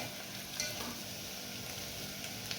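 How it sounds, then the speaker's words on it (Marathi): Onion sautéing in a pan for whole masoor lentil khichdi, a quiet steady sizzle with faint stirring scrapes and no talk. "कांदा आपल्याला व्यवस्थित गोल्डन ब्राउन होऊस्तोवर आपल्याला तो परतून घ्यायचा आहे।"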